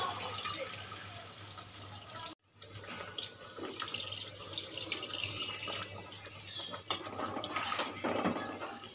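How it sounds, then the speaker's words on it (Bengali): Water is poured into a pot of thin Bengali chicken curry where the chicken has released its oil, a steady faint splashing stream that stops briefly, then continues. "এবারে আমি জল দিয়ে দেব পরিমাণ মতো।"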